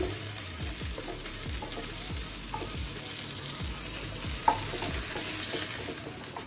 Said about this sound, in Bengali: পটলগুলো কিন্তু আমার এখন ভাজা হয়ে গেছে